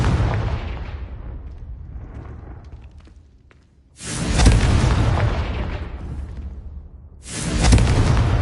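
Blasts from the Confringo fire spell in Hogwarts Legacy land as two loud, booming whooshes, each swelling suddenly and rumbling on for a few seconds, after a fading roar at the start.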